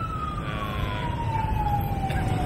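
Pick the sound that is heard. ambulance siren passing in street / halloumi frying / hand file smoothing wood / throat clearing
ambulance siren passing in street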